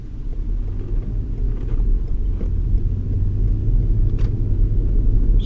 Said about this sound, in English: sound of the engine is really smooth